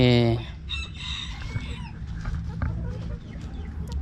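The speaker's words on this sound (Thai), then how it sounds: "เราปล่อยไก่ออกมาแล้วนะครับ" A chicken let out of its enclosure crows loudly at the start, then clucks repeatedly close by.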